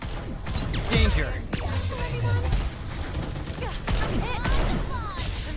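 Rapid gunfire bursts and sharp impacts in Farlight 84, a battle-royale shooter, loud and clustered across the clip with mechanical clanks in between.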